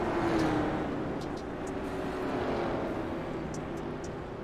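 Dirt-track race cars roar together at Eldora Speedway, a steady, loud, continuous engine drone with slight swells as the pack circles; no talking.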